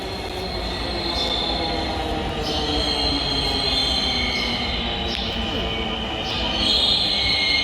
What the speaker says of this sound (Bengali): ওই যে মেট্রোটা আমাদের চলে আসছে কাছাকাছি।